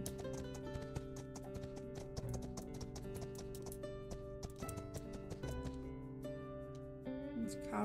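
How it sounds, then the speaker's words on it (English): Hooves clip-clop in a quick, regular rhythm over steady game music in My Time at Sandrock, the footfalls soft and continuous as a horse moves along. "I like having a horse to ride around."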